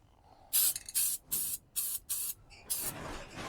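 A paint sprayer coating a wagon, with a series of close, loud hissing bursts, each lasting about half a second and separated by short pauses, and a final longer spray.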